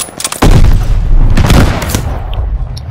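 Loud gunfire and explosions from a World War II campaign battle in the game Vanguard, with mortar fire nearby. A sudden heavy blast opens a dense, sustained barrage of booms and shots that continues throughout.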